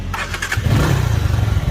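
A motorcycle engine is started with the ignition while the bike sits in neutral, a short cranking burst followed by a steady, close, rumbling idle with no talk.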